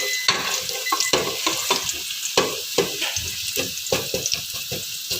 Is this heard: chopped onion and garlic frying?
yes